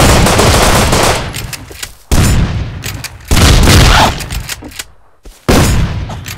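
Rapid bursts of automatic gunfire in the survival game Rust, loud and close, coming in several volleys separated by brief gaps.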